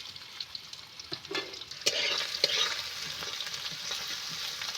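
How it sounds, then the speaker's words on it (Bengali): Chopped tomato sizzling and frying in hot oil with a big fresh pond-fish head in a pan, with a steady crackle and occasional scraping stir strokes; the sound is close and clear, with no talking. "টমেটো দিয়ে আবার আমি এইভাবে নেড়ে চেড়ে খুব সুন্দর মতো করে কষিয়ে নেব।"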